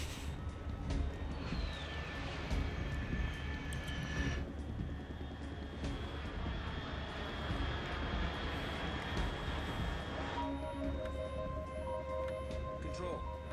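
Aircraft engines drone in Metal Gear Solid 3, a steady loud rumble with whining tonal hums that shift partway through, heard under game sounds and spoken dialogue.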